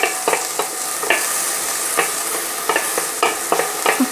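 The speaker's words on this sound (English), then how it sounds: "Fry the onion till it turns brown." Chopped onions frying in hot oil, a steady nearby sizzle punctuated by repeated scraping stir strokes at irregular intervals, with no talking.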